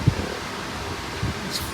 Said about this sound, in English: I had to turn the fan on.